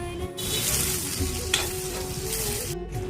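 Garlic, coconut, onion, peanuts and coriander dry-roasting together in a pan, a close, busy sizzle broken by scraping stirs and clinks of a spatula.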